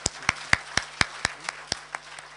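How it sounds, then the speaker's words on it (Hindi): An audience at a group meeting claps for itself in unison, nine or ten sharp, evenly spaced claps in a steady beat that fade slightly toward the end, heard fairly close. "तो सब ताली बजाएंगे अपने आप के लिए।"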